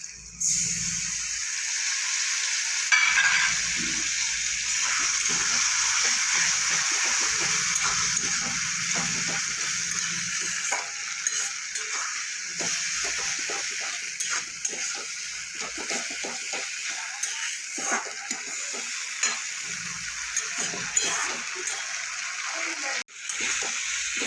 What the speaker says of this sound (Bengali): পেঁয়াজটা আমার অনেকটা ভাজা হয়ে গেছে এবার আমি দিয়ে দেবো আদা কাঁচা লঙ্কা